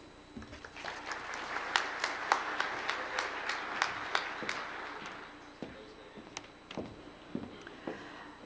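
An audience applauds to welcome speaker Claudia Sanchez Bajo: dense clapping swells, holds for several seconds, then thins out to a few scattered claps in a large room.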